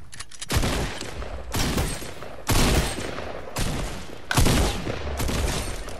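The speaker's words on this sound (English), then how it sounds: "There's another guy shooting at you, bro" Bursts of gunfire in Fortnite ring out in four loud, evenly spaced volleys, each a sharp crackling blast with a ragged tail, close and dominant with no talk over them.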